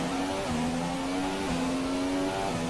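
Engine of a McLaren Formula 1 car in the F1 2017 racing game at the Hungaroring, a steady loud high-pitched whine that rises and dips slightly with short shifts, continuous throughout with no talking.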